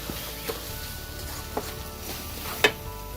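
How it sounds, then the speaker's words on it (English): A spoon gently stirs chopped mint leaves and cilantro into a cooked biryani paste, with a soft, faint sizzle underneath and three light taps of utensil on pot spread across the few seconds; no talking. "Just give it a quick stir."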